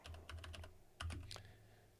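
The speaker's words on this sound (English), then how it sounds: "Wait, type in the right window, Doc." Quick clicking keystrokes on a computer keyboard, a rapid run of close taps followed by a short louder flurry, heard alone over a faint low hum.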